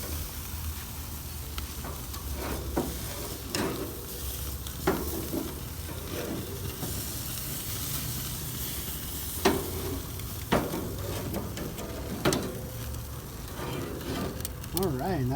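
A T-bone steak sizzling on a grill, a steady crackling hiss with scattered sharper pops and scraping, close by, with a person talking over it in places.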